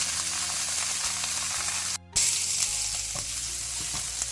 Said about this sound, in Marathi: आतां हांगा मास पळया बरें भाजलां.